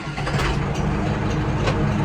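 An ENEY TB504C tractor's engine starts up and settles into a steady, loud, close mechanical rumble, with no talking.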